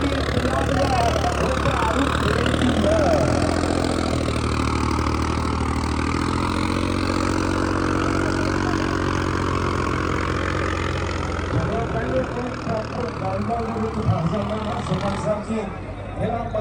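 A tractor at a trolley-pulling contest idles on and on with a deep, steady, low rumble, while loud voices and crowd noise carry over it throughout.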